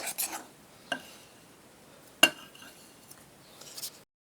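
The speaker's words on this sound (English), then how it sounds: "we are going to just give this a little rough stir to combine this" A rough stir of snickerdoodle cookie dry ingredients, including salt, in a mixing bowl: a few scattered, quiet scrapes and light clinks of a utensil against the bowl, with pauses between and no talking.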